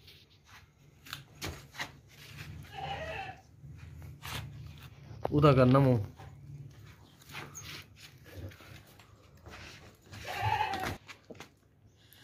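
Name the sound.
goat bleating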